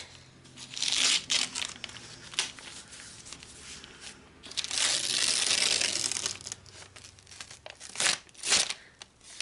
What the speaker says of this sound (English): I'm going to unwrap it. They have it like really, really well taped up.